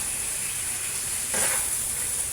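Pork fat with squash, bitter melon and string beans sautéing in a pan, a steady close sizzle that swells briefly with a stir midway.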